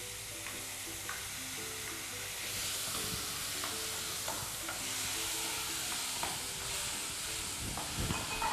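Onions and mushrooms frying in a pan, a steady close sizzle and hiss that grows slightly louder midway, with intermittent scraping stirs and a faint melodic background.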